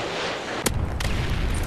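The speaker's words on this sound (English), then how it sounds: "Friendly Predator missile inbound." A Predator missile strikes in Call of Duty: Modern Warfare 3, a sharp, loud blast followed by a heavy rumbling boom and a second burst, with no talk over it.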